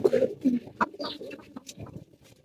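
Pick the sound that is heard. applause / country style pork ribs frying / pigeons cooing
pigeons cooing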